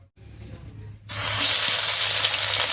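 Cut dried fish dropped into hot mustard oil in a wok, breaking into a loud, steady sizzle after a quiet second and continuing close up without talk.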